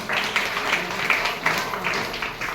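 A church congregation clapping in a rhythmic, steady beat of roughly three claps per second, moderately close and without voices.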